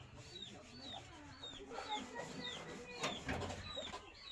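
Broody breeding hen on a farm giving low, steady clucks close by, with repeated thin chirps from other birds and someone speaking faintly in the background.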